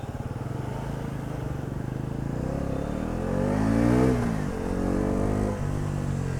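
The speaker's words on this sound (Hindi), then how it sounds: "Exhaust sound superb." A Bajaj Pulsar NS400Z motorcycle exhaust rumbles while riding through heavy evening traffic, its engine revving up and settling back in close, rising and falling sweeps.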